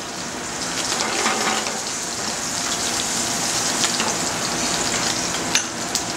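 Garlic and shallots sizzle steadily in a hot pan beside roasted butternut squash, a dense, close frying hiss with scattered small pops throughout and no talking.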